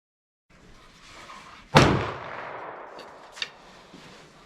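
A Remington 20 gauge shotgun fires a single copper sabot slug outdoors: one sharp, loud blast after a quiet start, with a rolling echo trailing off and a faint click shortly after.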